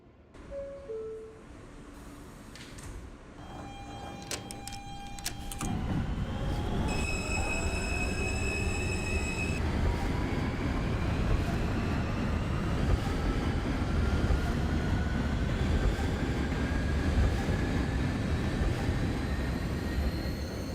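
An R160 subway train on the F line in the OpenBVE simulator starts from rest and runs steadily for about twenty seconds, with a rising motor whine, wheel squeal and a constant loud rumble, preceded by short electronic tones.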